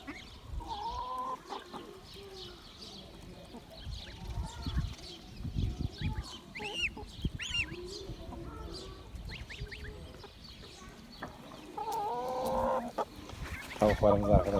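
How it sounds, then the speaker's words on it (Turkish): Noisy poultry squabble: ducks quacking and geese honking in agitated bursts, with flapping and scuffling throughout, loud and close. "Ördekler kazlarımızı dövüyor."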